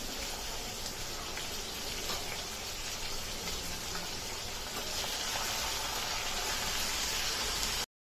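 Chicken sizzling with spices in a pan for a village-style Kokani chicken curry, a steady dense hiss and crackle throughout, close and even, with no talking.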